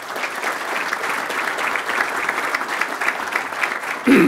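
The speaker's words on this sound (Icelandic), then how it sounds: "Ég legg til að þið gefa henni gott klapp." A golf federation assembly applauds its newly elected president, steady dense clapping from many hands filling the room throughout, swelling louder right at the end.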